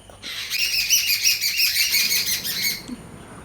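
A flock of birds chirps and twitters steadily at close range, in dense overlapping calls for about two and a half seconds before trailing off, heard outdoors while cassava is being boiled.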